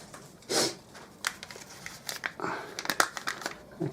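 Plastic packaging on a US Army MRE ration pack of shredded beef and BBQ sauce crinkles and crackles as it is peeled open, with close, irregular rustling bursts and brief tearing sounds and no speech.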